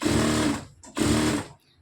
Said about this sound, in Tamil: இப்போ நம்ம ஒரு 1/4 இன்ச்சில் கரெக்டாக தையல் போட்டுட்டு வரலாம்.